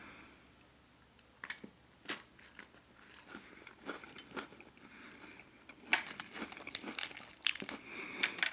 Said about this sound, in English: I'll try some on the cracker so we can get some crunch in there